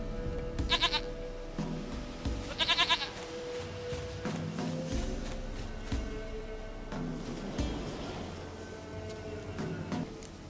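Repeated goat bleats from The Witcher 3: Wild Hunt, two clear quavering calls in the first three seconds and fainter ones later, set against a low game soundscape with music.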